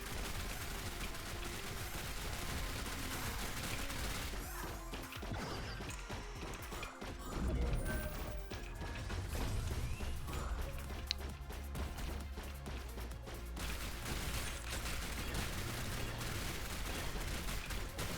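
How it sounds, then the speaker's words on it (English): Rapid video game gunfire during a boss fight in Neon Abyss 2, a dense stream of shots and impacts layered over loud game music and effects throughout. "they're already shooting at the guy"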